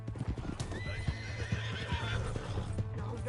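A horse in the video game Red Dead Redemption 2 clip-clops in quick, rhythmic hoofbeats and lets out a whinnying neigh, close and loud, while voices talk over the action.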